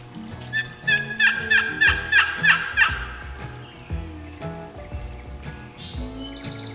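A wild tom turkey gobbles outdoors in Wisconsin, one rapid rattling call of several quick notes, moderately near, followed by fainter bird sounds and background noise.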